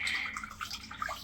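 Spiced water is poured into buttermilk sambar, a close, splashy trickling pour running steadily for a moment before thinning out.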